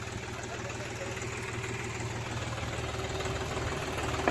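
A tractor loaded with sand idles nearby, its engine chugging in a low, steady, knocking rhythm that holds constant throughout.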